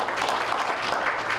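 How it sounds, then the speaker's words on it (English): Dense, steady applause from a town hall crowd in Carlsbad greeting the mayor, a continuous wash of many hands clapping at even loudness throughout. "Let's give the mayor a round of applause."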